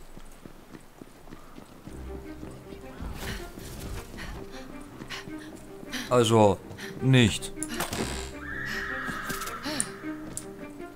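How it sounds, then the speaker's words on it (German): A headless horse in the video game Tiny Tina's Wonderlands gives two loud, close whinnies in quick succession, set among background game sounds while people talk. "Ich höre ihr Wiehern immer noch"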